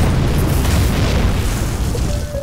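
Bomb explosion in a Korean TV drama, a loud deep boom that rumbles on and fills the whole clip without any speech.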